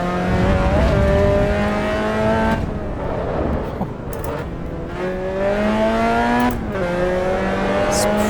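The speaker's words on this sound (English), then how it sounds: "I'm in the Mazda MX-5 Cup car." A Mazda MX-5 Cup car races in Assetto Corsa EVO at Brands Hatch, its engine note loud and continuous. The engine climbs steadily through the revs, with two brief drops as gears shift and faint tyre noise underneath.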